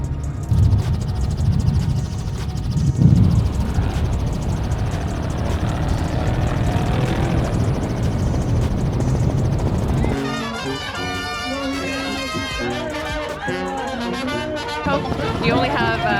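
Helicopter flying over the Baja 250 off-road race in Mexico, a steady, loud rotor and engine drone filling the first ten seconds, then giving way to music with a voice.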